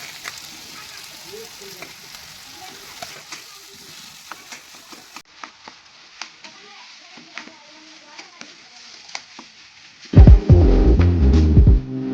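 Boiled potatoes are stirred into roasted spices in a pan for samosa filling, first with soft scraping and light clatter, then a loud, close burst of sizzling frying near the end.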